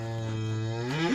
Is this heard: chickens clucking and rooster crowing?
no